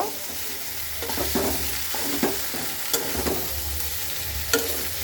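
Potato and cauliflower curry being stirred in a hot pan with cumin powder and salt, a low steady sizzle under repeated spatula scrapes and a few sharp clinks against the metal.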